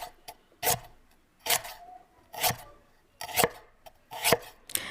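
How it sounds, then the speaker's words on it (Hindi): Knife chopping pickling mangoes on a board, five or six firm, evenly spaced chops, close and alone with no talk. "तो इसके लिए मैंने 3 किलो अचार के वाले आम ले लिए हैं और उनको मैं काट लेती हूँ।"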